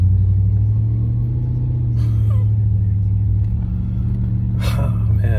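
A lowered pickup truck rumbles along at low speed in a steady drone from inside the cab while steering around a car stopped in the road, with brief clicks and a short burst of noise.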